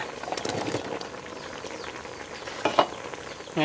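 Vegetables and eggplant are stirred into a sizzling Thai beef curry in a hot pan, giving a close crackling fry with scraping stir strokes and a sudden louder sizzle at the end.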